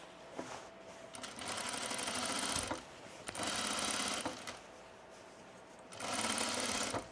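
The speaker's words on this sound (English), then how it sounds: "I was just thinking I could top stitch and hem this whole thing in one stitch." Sewing machine running steady stitching passes on a sunblock top for top stitching and hemming, loud and close, in three long runs with brief stops between them.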